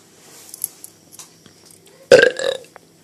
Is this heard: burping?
yes